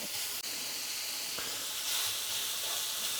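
Cut-up sausage pieces browning in a hot pan, giving a steady, close sizzle and hiss that carries through the whole stretch with no talk.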